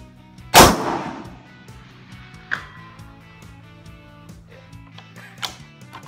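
A rifle fires at a steel target 500 yards away in open country. One sharp, loud report is followed by two fainter distant cracks or pings spaced a few seconds apart, with low background hum.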